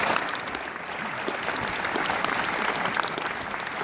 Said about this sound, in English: Nelson Storm, please, a warm applause